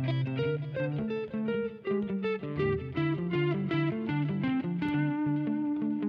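An electric guitar plays a run of distorted notes, each echoed by a delayed repeat that fills the gaps between them.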